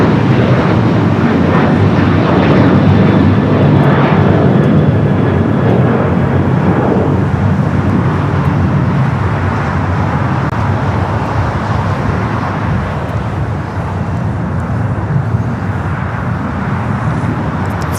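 A United Boeing 737-900ER bound for Las Vegas takes off from LAX, its jet engines making a loud, sustained roar that fills the whole stretch without letting up, with no speech.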